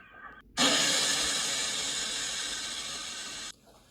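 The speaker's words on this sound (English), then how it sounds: "The Steamies were appalled. They wheezed steam in fury." A loud, sustained hiss of steam from steam engines, a single forceful blast lasting about three seconds with an abrupt start and stop, heard alone.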